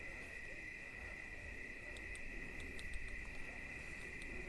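An owl hoots at night against a steady, loud drone of insects, with the calls faint and low in the dark outdoor setting.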